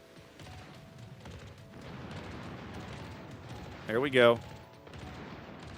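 Battleship secondary guns firing in the naval game World of Warships, Tier VIII Pan-American battleship Atlântico, a busy stretch of muffled gunfire and booms with a short louder burst, while a voice talks over it.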